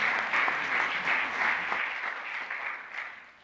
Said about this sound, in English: A round of applause, please, for Mark Kramer.